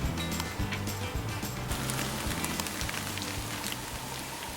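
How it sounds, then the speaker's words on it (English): Steady rain patters on a surface before dawn at a Michigan bow hunting camp, continuous and close, with a soft rhythmic knocking underneath. "listening to the rainfall, waiting for the sun to come up"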